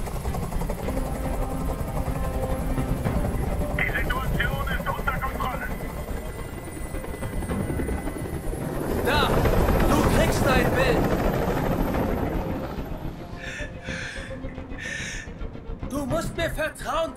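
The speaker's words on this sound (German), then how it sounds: "Ich halte diesen Krach nicht mehr aus. Dieser Helikopter soll verschwinden." A helicopter in the Detroit: Become Human video game drones steadily throughout with a heavy rotor rumble, swelling louder midway, while voices speak over it.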